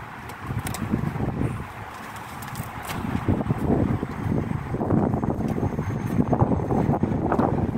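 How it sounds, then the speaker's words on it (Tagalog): Strong gusts of wind on a rooftop buffet the microphone with low rumbling blasts that rise and fall continuously, loud and close. "ang lakas ng hangin"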